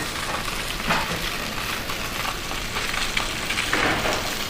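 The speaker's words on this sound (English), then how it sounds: "So you want to get the skin nice and crispy on the bass." Sea bass fillets fry skin-down in an oiled pan with a dense, constant sizzle and crackle, loud and close throughout, the hiss rising slightly toward the end; no talk.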